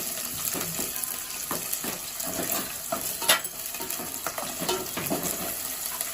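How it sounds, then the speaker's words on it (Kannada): Onion frying in about three tablespoons of oil with green chillies, a continuous crackling sizzle with frequent stirring scrapes and small knocks of the spoon against the pan. "ಈರುಳ್ಳಿ ಸ್ವಲ್ಪ ಫ್ರೈ ಮಾಡ್ಕೊಳ್ಳಿ."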